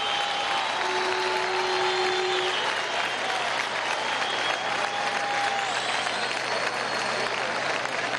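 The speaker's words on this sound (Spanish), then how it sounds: "Un aplauso a las comunidades sexodiversas" Studio audience at a political meeting with party primary candidates breaking into loud, sustained applause that holds at an even, dense level for about eight seconds, with no voice cutting through.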